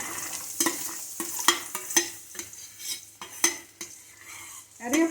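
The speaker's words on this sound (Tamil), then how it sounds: "இந்த ரெண்டையும் வந்து நம்ம வதக்கி எடுத்துக்க வேண்டியதான்" Onion and garlic sautéing in a pan for a fish kulambu, with rhythmic, close spoon strokes and metallic clinks roughly every half second over a light sizzle.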